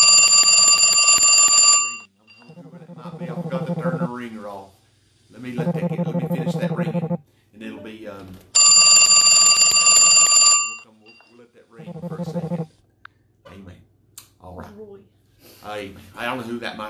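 Telephone ringing loudly in repeated bursts of bright electronic trilling, separated by gaps filled with other ringing tones and voice-like sounds, close and prominent.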